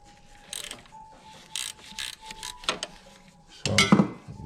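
A ratchet wrench works loose a 10 mm nut on the alternator of a GM 3800 engine, giving bursts of quick metallic clicking with pauses between turns and a louder clatter near the end.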